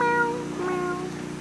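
A cat meows in a few drawn-out, tonal cries, close and fairly loud, with no talking over it.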